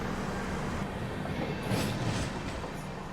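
The Sarvodaya Express passenger train pulls away with a continuous low rumble and broadband rolling noise, steady and fairly loud, as the carriages begin moving.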